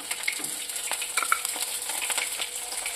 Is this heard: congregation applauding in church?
no